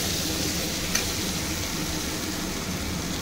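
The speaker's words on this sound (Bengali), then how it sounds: "খুব নেড়ে চেড়ে কষিয়ে" A spice paste with potatoes for a pekal fish curry fries in a pan with a dense, continuous sizzle at steady loudness, a single faint clink partway through, and no voices.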